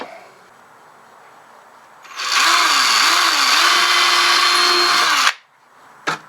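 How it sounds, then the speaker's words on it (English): A power drill boring holes through foam in a FreeMo model railway module: a single sustained, loud, close whine lasting about three seconds, its pitch wavering as it bites in, followed by a brief knock, with no talking. "We'll drill the rest of them."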